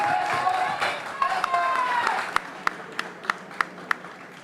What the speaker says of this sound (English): Give a warm round of applause to both of your fighters.